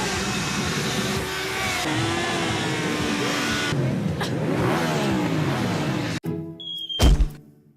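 Wedding convoy cars arriving, a loud close engine rumble and revving with passing vehicles, then a sharp thunk and a brief horn blast near the end, no speech heard.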